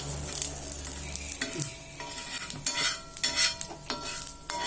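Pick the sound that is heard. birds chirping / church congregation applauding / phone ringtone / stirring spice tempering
stirring spice tempering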